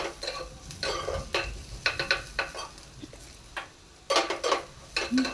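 Mixture frying for a mustard pabda fish curry with ginger just added, close-up bursts of spoon scraping and clinking against the pan in an irregular stirring rhythm over a faint sizzle.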